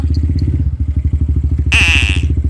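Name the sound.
motorcycle engine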